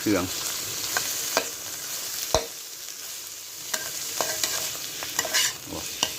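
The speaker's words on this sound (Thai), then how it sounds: "ต่อไปครับใส่ปลาไหลครับ นี่ ครับ ลงไปล้วนนะครับ ลงไปผัดนะครับกับ" Eel stir-fried with herbs in a pan for a spicy dish: a moderate sizzle under repeated sharp scrapes and clacks of a utensil against the pan, with no talking.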